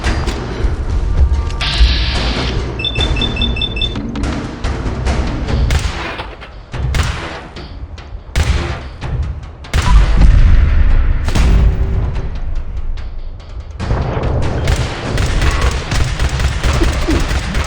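Gunfire from a weapon shooting in bursts during a Fallout 4 fight, with heavy booming shots and thuds in loud clustered volleys, brief gaps between bursts and short electronic game tones.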